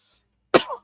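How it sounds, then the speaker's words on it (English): A single short, rough cough from a man, close and loud after a moment of silence, ending in a throaty rasp. "Hold on, I got a cough."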